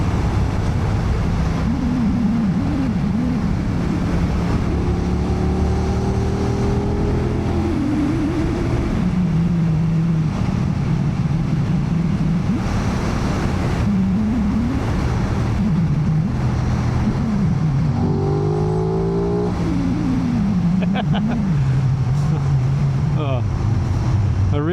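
A 2025 Aprilia RS660 Factory motorcycle under way, its engine and intake droning loudly and steadily, rising and falling in pitch through gear changes, with wind rush throughout.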